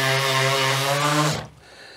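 A power sander works over a dent on an entry door, a strong steady tonal whine and buzz that cuts off abruptly partway through, leaving quiet room tone.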